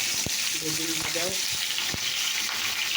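Eggplant fries in a pan with a constant hissing crackle, close and fairly loud, broken by a few soft knocks and faint background voices.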